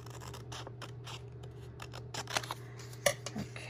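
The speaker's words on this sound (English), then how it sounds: "Sometimes it's just easier to use my scissors." Soft, quick snips of scissors cutting paper, a series of crisp clicks and rustles over a low steady hum.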